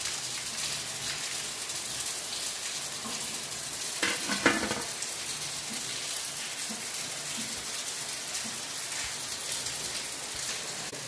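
Bhetki fish fingers frying in a pan give a steady, even sizzle throughout, with a brief louder burst of crackling and spattering near the middle.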